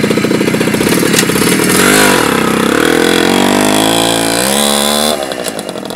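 Romet Ogar moped two-stroke engine fitted with a new Almot cylinder, revving loud and close with a buzzy rising and falling pitch, then dropping toward idle near the end.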